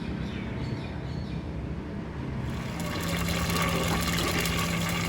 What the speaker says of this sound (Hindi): हरी मिर्च हमने डाल के ज़रा इसको कड़कड़ाना है